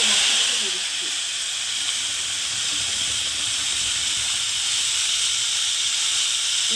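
A loud, steady hiss of spice paste sizzling in hot oil while cooking dal makhani, continuous and close, with little variation throughout.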